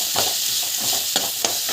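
Spiced ingredients with cumin, salt and asafoetida sautéing in a frying pan, a steady close sizzle broken by soft stirring scrapes and a couple of brief clicks.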